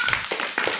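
Children in a kindergarten class clap along to a prayer chant in a quick burst of three or four sharp, close claps.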